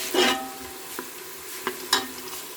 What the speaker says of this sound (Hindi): प्याज को हम लाइट ब्राउन कर लेंगे।